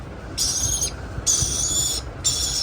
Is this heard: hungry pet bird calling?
yes